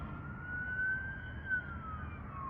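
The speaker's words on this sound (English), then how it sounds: "And we got an ambulance." An ambulance siren wails as the vehicle passes along a Los Angeles street at night, a steady rising and falling tone at moderate distance over low road rumble.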